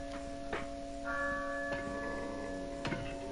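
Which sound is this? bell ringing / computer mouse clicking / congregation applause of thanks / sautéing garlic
bell ringing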